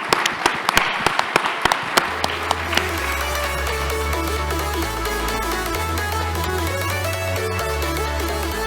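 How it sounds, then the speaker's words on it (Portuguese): Audience applause at a technology industry conference panel, a burst of scattered claps in the first few seconds that quickly gives way to loud background music carrying on to the end. "Uma salva de palmas aqui para o seu analista."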